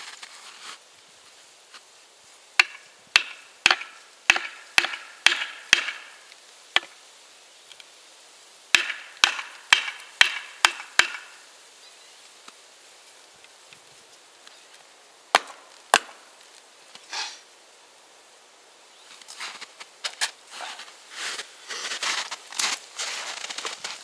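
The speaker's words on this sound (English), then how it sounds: "I never really need to baton wood like this" Sharp, repeated chopping knocks as a Blackfeather knife is batoned through wood, coming in quick bursts of eight or so strikes with pauses between, then scattered single hits and a softer crackling, splitting rustle near the end; no talking.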